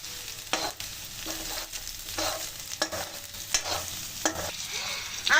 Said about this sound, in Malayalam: അത് ഓയിൽ ഒഴിച്ചിട്ട് കുറച്ച് വെള്ളുള്ളി ചേർത്തിട്ട് ക്യാപ്സിക്കം, ക്യാരറ്റ്